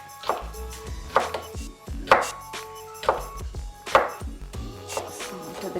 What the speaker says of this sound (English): You're chopping the green chilies now?